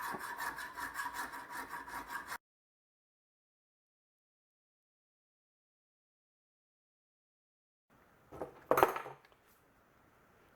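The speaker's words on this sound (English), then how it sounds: "start filing this thing by hand" Steel knife blade being hand filed, a steady rhythmic rasping stroke for about two seconds, then silence before a short louder scrape and clatter near the end.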